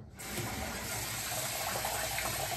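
Tap water running into a sink while shaving cream is rinsed off a face, a steady close gush that starts suddenly and continues without pause.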